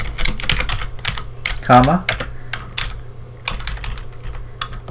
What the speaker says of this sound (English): we're going to type in JSX React